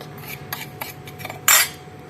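A metal spoon clinks and scrapes against a dish while scooping mixed spices, coriander and turmeric, toward a blender, with several light taps followed by one sharper clatter.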